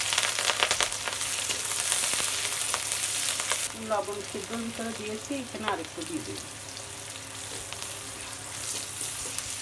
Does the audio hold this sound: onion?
yes